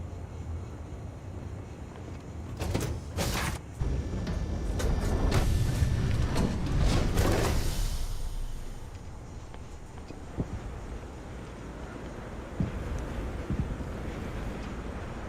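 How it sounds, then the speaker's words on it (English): Spaceship engines roaring as a craft breaks orbit in the space game Starfield, a broad rumbling whoosh that swells through the middle and fades into a steady low drone, with a few sharp crackles early on. "That sounds like somebody breaking orbit."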